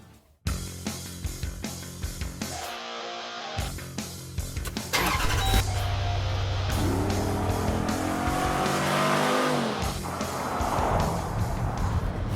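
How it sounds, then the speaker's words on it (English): A nearly 500-horsepower Jeep Grand Cherokee SRT V8 starts up and roars loudly, its engine note rising and falling through several revs with a brief tire chirp, steady and close throughout with no talking. "It's got a launch control and a special track mode, and it sounds like a NASCAR."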